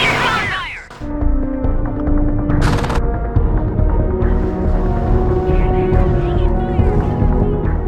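Gunfire in the tactical shooter Rainbow Six: Lockdown, a loud burst of shots followed by sustained rattling fire and a booming rumble, dense and close throughout.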